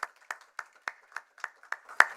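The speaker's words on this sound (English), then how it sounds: "give a big applause to the deans and the faculty" Scattered claps at a professorial inauguration ceremony honoring deans and faculty, a few sharp handclaps spaced evenly about every third of a second, ending in one louder clap, thin and sparse rather than a full crowd.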